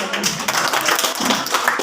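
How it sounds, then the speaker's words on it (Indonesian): Short burst of dense hand clapping from a gathered group at a teachers' audience meeting, loud and close, lasting under two seconds. "Tepuk tangan dulu."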